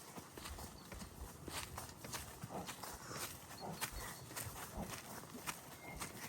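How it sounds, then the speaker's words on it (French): A horse walks along a mountain trail, its hooves clip-clopping in a slow uneven rhythm at close range, faint against soft outdoor background noise. "Ricardo, c'est un cheval tout terrain"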